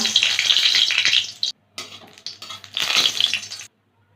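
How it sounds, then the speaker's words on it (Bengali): Bay leaf and dried red chili drop into hot mustard oil in a kadai, giving a loud, steady crackling sizzle. The sizzle breaks off twice, surges up again, then stops. "কড়াইতে সর্ষের তেল দেব তেলটা গরম হয়ে গেছে একটা তেজপাতা একটা শুকনো লঙ্কা"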